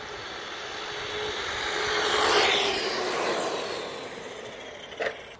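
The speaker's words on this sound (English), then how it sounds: "we're doing a drag race here between the MT10-E and the Granite 4x4, both stock, running 2S LiPos" Two stock 1/10-scale electric RC monster trucks, a Redcat MT10-E and an Arrma Granite 4x4 on 2S LiPos, drag race outdoors. Their motors give a whirring whine that swells as they pass and then fades, with a brief knock near the end.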